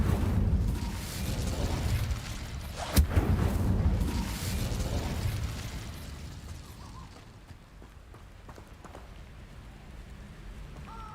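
Incendio fire spell cast in the video game Hogwarts Legacy: a loud, rumbling, explosive whoosh with a sharp crack partway through, then a roaring burn that slowly fades into a softer sustained rumble.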